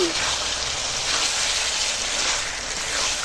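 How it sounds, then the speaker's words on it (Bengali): Goat meat curry sautés in a pot over a wood fire, a loud, continuous close sizzle and crackle that holds steady throughout. "কাঠের জালে কষানো হচ্ছে"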